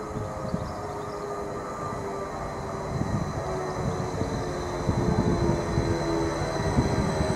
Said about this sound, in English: we've got the 1229 service to London Liverpool Street, now arriving into platform 1